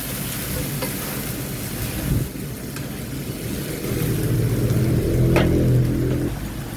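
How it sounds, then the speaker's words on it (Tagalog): Kangkong stems stirred into laing in a pan, a steady close sizzle with scraping stir strokes that grow louder and fuller toward the end. "isunod naman natin yung ating tangkay ng kangkong. haluin lang natin silang lahat"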